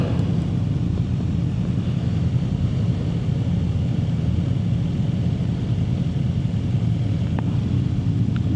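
A 2026 Honda CB650R motorcycle engine runs loud and close, holding a steady, throaty rumble for the whole stretch with no clear rev spikes.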